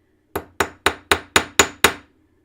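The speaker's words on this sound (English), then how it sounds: "next thing I'm going to do is I'm going to hammer it" Seven sharp, evenly spaced hammer blows drive 22-gauge wire into a sawed line, each strike close and loud with a short ringing decay, then silence.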